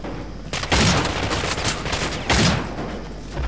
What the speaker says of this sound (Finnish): Kaverilla on konekivääri.